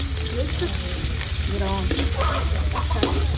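Onions fry in a pan with a dense, steady sizzle close by, mixed with stirring clatter and some faint background voices.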